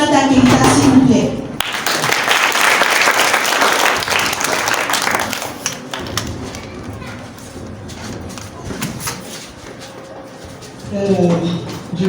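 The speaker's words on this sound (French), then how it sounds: "On s'applaudit." An audience claps at an evening book festival in a reading village, a steady burst of applause that fades after a few seconds, with voices speaking at the start and end.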